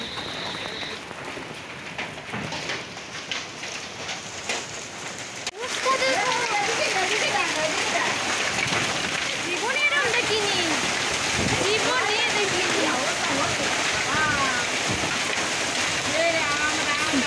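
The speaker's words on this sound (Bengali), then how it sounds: "একটু পরেই ঝড়ের গতিবেগ বাড়লো আর সাথে শিল পড়াও।" Hailstorm with heavy rain and strong wind in South Bengal, a steady dense roar of falling water and pelting that grows louder partway through and continues unbroken, with faint voices underneath.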